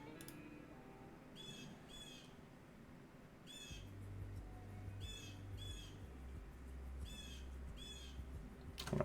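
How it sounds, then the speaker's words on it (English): A bird squawks in short, loud bursts, roughly three or four scattered calls over a low background rumble that grows louder halfway through. "Dang, bird is making so much noise, my goodness"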